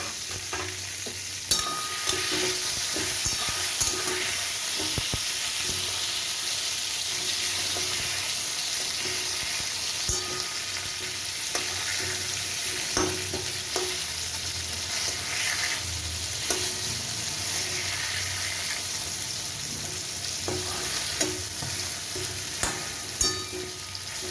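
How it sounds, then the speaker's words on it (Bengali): Eggplant pieces fry in oil in a covered pan, giving a steady, dense sizzle with occasional soft clicks as they are stirred; no voices. "বেগুনগুলো আমি ভালো করে চাপা দিয়ে দিয়ে ভেজে নেব চাপা দিয়ে দিলাম চাপা খুলে বেগুনটা একবার নেড়ে দেবো"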